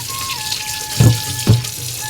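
Bombil and palu fish, already scaled, rinsed under a running tap, with a steady close splash of water and two brief louder slaps as the fish are handled in the stream.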